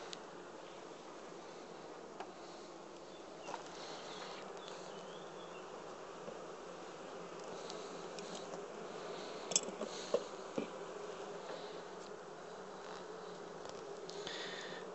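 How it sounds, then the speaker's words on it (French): Honey bees buzzing around an opened hive during a spring inspection, a soft continuous drone of many insects heard close, with occasional small clicks and knocks from handling the frames. "c'est des belles abeilles, elles sont pas abîmées"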